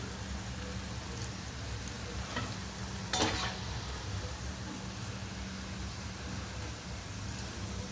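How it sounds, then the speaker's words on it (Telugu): Onion bhajji and mirchi pakoda fry in hot oil with a continuous, even sizzle and crackle, interrupted once by a brief scrape or clatter partway through. "ఆ వేపు మరి పచ్చిగా ఉండగా తీయకూడదు అలా బాగా వేగే చూడండి"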